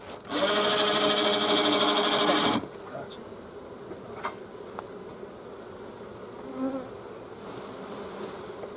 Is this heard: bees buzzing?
yes